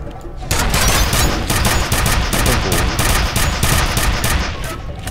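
An enemy fires a needle weapon in the F.E.A.R. video game, producing loud, rapid automatic bursts of shots that continue almost without pause, with game sounds around them.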